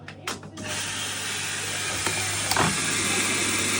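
A Hotpoint Ariston washing machine door latch closes with a couple of quick clicks, then a steady rushing hiss of running water fills the background, broken by a few faint mechanical ticks.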